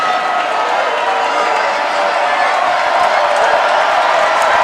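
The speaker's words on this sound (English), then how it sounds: "Both crowds getting real into it. It's real loud here." Dense, loud roar of a crowd cheering at a varsity high school football stadium, sustained and swelling slightly, with scattered shouts mixed in.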